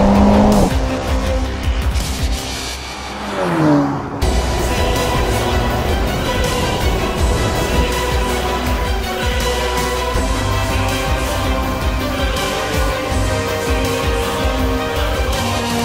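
A 2015 Ferrari California T with its 3.9-liter twin-turbo V8 pulls hard on the Angeles Crest Highway. The engine drones loud and steady close by, with a brief tire squeal early on and a gear change near four seconds.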